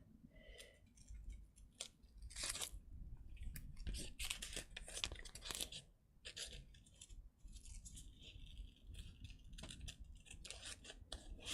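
Scissors snipping and cutting out paper for a craft project, close and crisp, in irregular bursts of clicks and rustles with short pauses, no talking.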